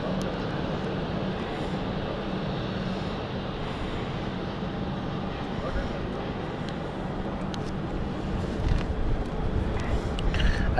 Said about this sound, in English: And the Ibiza flight is on final. Here she comes.